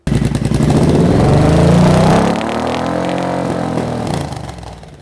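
Motorcycle engine fitted with a decat exhaust runs loud and close, a rough throbbing roar that rises and holds for about two seconds, then settles to a lower steady drone before easing off at the end.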